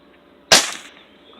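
A Crosman 1377 air pistol pumped fifteen times fires one sharp, loud crack at a hunting pellet outdoors, with a short fading tail afterward.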